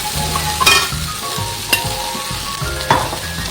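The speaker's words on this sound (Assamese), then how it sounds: "দি পেলাই এয়া লৰাই দিছোঁ।" Khutura greens and jackfruit seeds are stirred in a hot pan, giving a steady sizzle broken by a few sharp clanks of a spatula against the metal, with no voices.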